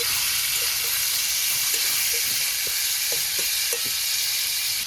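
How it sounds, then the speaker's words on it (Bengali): Turmeric and chili fry in an overheated wok, a loud continuous sizzle close by, broken by scattered scraping ticks as the spices are stirred; no one speaks. "হলুদ লঙ্কা একসাথে দিয়ে দিলাম, নেড়ে চেড়ে মিশিয়ে দিই।"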